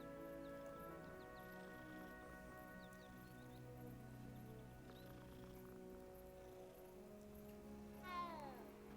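A cat meows in the video game Hogwarts Legacy: a single short, falling meow near the end, heard over steady sustained in-game music.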